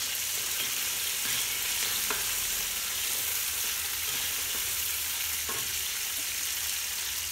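Fenugreek leaves fry in a pan while being cooked for a country-chicken biryani, giving a constant crackling sizzle broken by a few sharp scraping strokes of a spoon.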